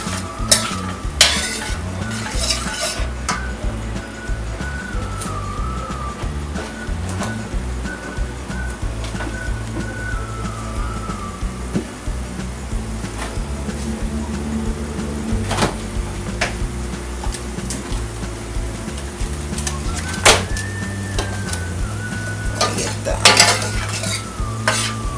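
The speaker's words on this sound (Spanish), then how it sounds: "Espera que se sofría." Pork pieces sizzle steadily in a pan while a utensil stirs and scrapes them, with repeated clinks against the pan over a continuous frying hiss, close and without talk.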